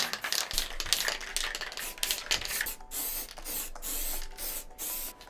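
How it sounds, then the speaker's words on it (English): Short hissing bursts of a spray paint can, sprayed onto a finger while making spray paint art, come in uneven puffs with brief pauses, fairly close and fairly quiet, with no talking. "I'm gonna spray a little on my finger"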